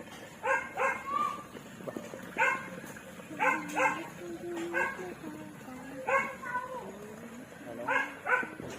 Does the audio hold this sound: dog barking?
yes